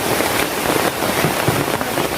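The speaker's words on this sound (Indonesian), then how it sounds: "Waduh, hujan lagi." Rain falling outdoors, a loud continuous broadband hiss with scattered heavier spatters and pops, close and unbroken for the whole stretch without talk.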